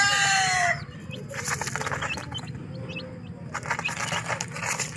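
Baby chicks on a farm chirp in quick, high, close peeps, with a dense burst of calls at the start and then scattered chirps over a steady low rumble.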